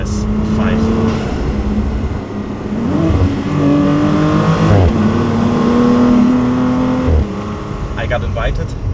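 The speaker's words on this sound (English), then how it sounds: "today I'm driving the all-new Audi" A new Audi RS5 drives along the Grossglockner Alpine Road with a loud, close engine that hums, changes pitch and surges as it accelerates through the gears. Someone speaks over the engine for most of the stretch.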